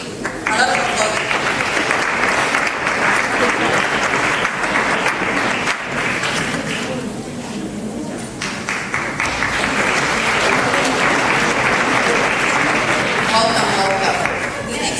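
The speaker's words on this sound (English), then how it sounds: "Please welcome to the stage. A lot of applause." Sustained audience applause welcoming the ITV channel director to the stage at a live event, a steady dense clapping that holds throughout with a brief dip midway, mixed with crowd noise and voices.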